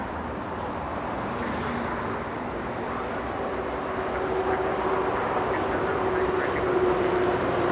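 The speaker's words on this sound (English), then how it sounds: "Look at that, 737 back taxiing on hotel because taxiway Lima is occupied." A Boeing 737 taxis at Los Angeles International Airport, back-taxiing on a taxiway, with a steady distant jet engine whine and hum over broad airport and traffic noise, plus a faint rising tone partway through.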